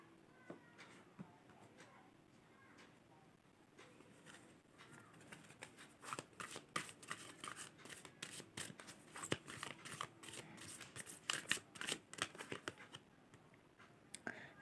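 Tarot cards are handled during a reading: quiet papery flicks and shuffling taps, sparse at first and then quicker and busier toward the end, close by and faint, with no talking.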